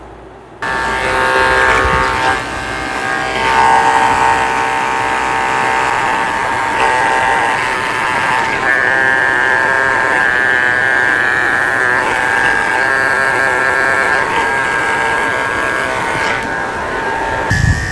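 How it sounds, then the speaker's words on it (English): Electric dog clippers with a 30 blade shaving the paw pads of a Shih Tzu during grooming, a loud steady buzzing hum that starts abruptly and runs continuously with slight changes in pitch. "I'm going to start off by shaving the pads of her feet with a 30 blade"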